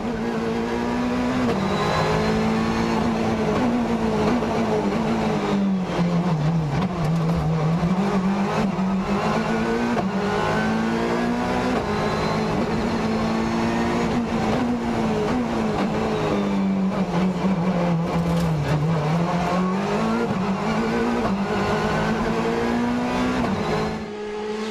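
A DS3 WRC rally car racing on a stage of the Rallye du Mont-Blanc 2016, its engine roaring continuously and loudly with revs climbing and dropping through corners and gear changes.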